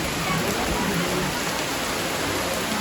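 A thick, constant roar of heavy rainfall drums on nearby surfaces in a Konkan village, loud and unbroken throughout.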